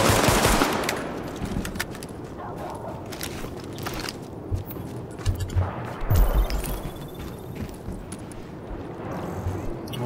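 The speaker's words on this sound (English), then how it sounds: "But I do hear gunfire." Bursts of automatic gunfire in The Division video game, rapid rattling volleys and scattered single shots at mid distance, with a brief voice, over a noisy game background.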